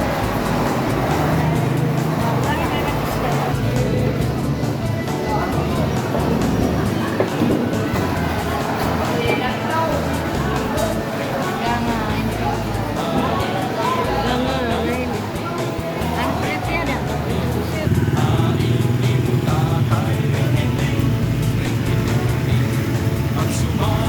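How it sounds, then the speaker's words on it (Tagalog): Busy road traffic in Oras, Eastern Samar, a continuous dense rumble of passing vehicles and engines with a person talking over it throughout. "Ayun, busy na yung kalsada."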